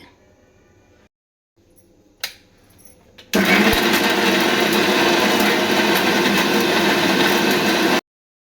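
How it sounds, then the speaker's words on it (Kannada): A few quiet clicks and a clunk, then a mixer grinder grinding spices with water roars to life and whirs loudly and steadily for several seconds before cutting off abruptly. "ಈಗ ಸ್ವಲ್ಪ ನೀರು ಹಾಕ್ಕೊಂಡು ನುಣ್ಣಗೆ ರುಬ್ಕೊತಾ ಇದ್ದೀನಿ"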